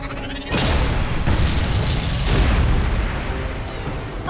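A booming cannon-blast effect from an attack in a fantasy action show, bursting in loud after a brief lead-in and holding a dense roar for several seconds.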